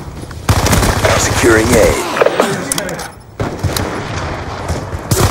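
Rapid automatic gunfire from Call of Duty: Black Ops 2 multiplayer in Domination on the Raid map rattles loudly and almost continuously, with a brief lull before more bursts, while game voice callouts play over it.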